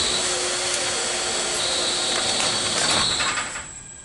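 Industrial cutting machine rolling up material onto a roll, a steady mechanical whir and rattle with faint ratcheting, fairly close, easing down near the end.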